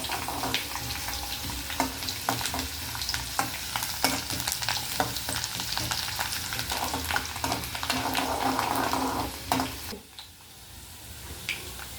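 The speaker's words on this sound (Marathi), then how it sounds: "आता फोडणीमध्ये लसूण आपला चांगला तळला गेलेला आहे." Peeled garlic fries in hot oil for a tempering, giving a steady close sizzle broken by frequent scraping and stirring strokes, before the frying quiets near the end.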